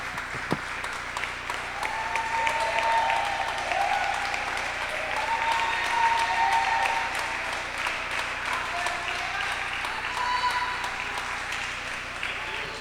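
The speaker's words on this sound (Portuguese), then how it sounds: "Vamos aplaudir bem forte ao Senhor pela vida dos nossos pastores." A congregation applauds steadily in a church service at a Brazilian Baptist church, a dense, even wash of clapping lasting throughout, with scattered voices calling out over it.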